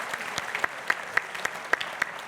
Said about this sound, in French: je vous demande encore une fois d'applaudir